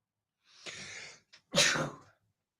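A single close sneeze on a sports radio show, a drawn-in breath followed by a sharp burst, with nothing around it.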